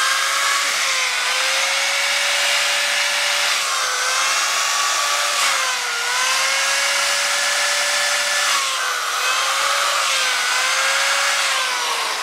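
A Yamaha FZR motorcycle wheel is wet sanded with 220 grit paper as a steady, loud, whining abrasive grind runs throughout with a wavering pitch and slight surges, with no talking.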